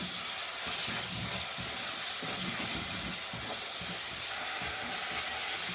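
Onion cooks in mustard oil in a pan, giving a continuous close sizzle and steamy hiss with light stirring noises.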